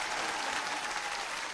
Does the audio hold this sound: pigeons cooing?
no